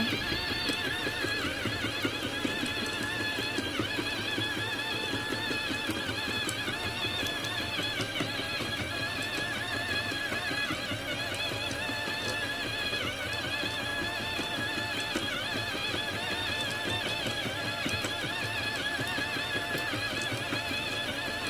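A Jamit automatic knitting machine works steadily on a knitted toboggan hat, giving a continuous mechanical whir with rapid clicking and clattering, close and even, with no voices.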